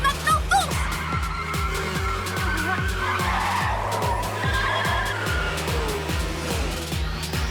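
A cartoon race car revs and accelerates with stepping engine pitch, tires squealing and skidding in repeated bursts, loud and close with light music or effects layered above.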